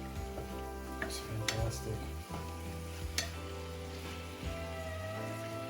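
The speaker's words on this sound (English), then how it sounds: "Just get some good fry out here on the meat." Beef sizzles and fries steadily in a hot pan for a steak sandwich, a continuous close crackle with occasional sharper pops and stirring clicks, while a voice speaks briefly over it.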